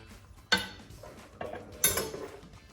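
Risotto being mixed in a bowl, with a few clear utensil clinks and scrapes against the dish at intervals over a quiet background, close and without talk.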